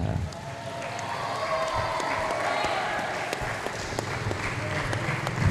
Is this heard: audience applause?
yes